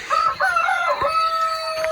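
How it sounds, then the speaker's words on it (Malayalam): A rooster crows loudly and close by in a long drawn-out call, with a few faint clucks around it, heard on a school tour in Munnar. "കോഴിയും ടൈമിങ് കറക്റ്റ്."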